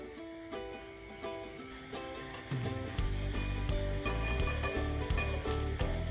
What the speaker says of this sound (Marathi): आता थोडासा गॅस वाढून घेऊ आणि आपण त्याला रंग येईपर्यंत फ्राय करून घेऊ